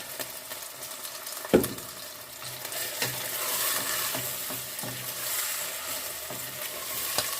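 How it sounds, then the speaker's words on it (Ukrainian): Potatoes sizzling and crackling as they fry in a pot, with occasional scraping knocks of stirring, fairly quiet and close. "Ось так воно смажиться"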